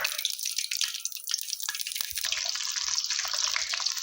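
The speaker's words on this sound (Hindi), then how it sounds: "ऑयल के हिसाब से इसके अंदर हम फ्राइज़ डाल देंगे और इनको हम पकाएंगे गोल्डन ब्राउन होने तक।" French fries fry in hot oil, a dense continuous hiss and bubbling crackle close by, steady throughout with a faint low rumble entering midway.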